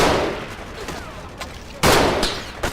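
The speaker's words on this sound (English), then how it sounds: "And now I shall use my sniper rifle to take out some more of these Americans." Sniper rifle shots in the war video game Battlefield Iraq, a couple of sharp loud cracks with decaying echoes, one near the start and a stronger one later, followed by a smaller report.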